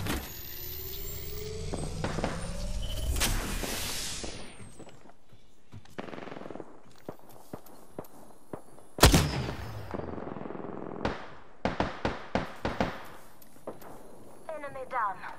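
Gunfire in a shooter video game crackles in bursts and single cracks, mixed with engine and effect noise, a loud blast midway and a rapid run of shots near the end.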